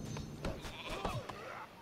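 Sheep bleating in the strategy video game Northgard, several short wavering bleats scattered across the moment, moderately faint, mixed with other game ambience and hoof-like clops.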